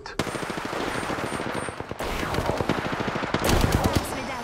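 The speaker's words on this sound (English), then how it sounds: "Shots fired at me." Rapid automatic gunfire from the Apex Legends video game, with dense bursts of shots running throughout and intensifying near the end, loud and close, with some faint talk underneath.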